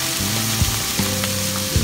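Ginger, garlic slices and scallion segments stir-fried in a hot wok: a loud, continuous sizzle with a few spatula scrapes at regular intervals, close up.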